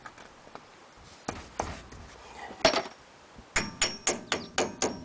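Grease cap being tapped back onto the front wheel hub of a 2001 Ford Ranger, heard as scattered sharp metallic knocks followed by a steady run of six hammer taps, close and fairly loud.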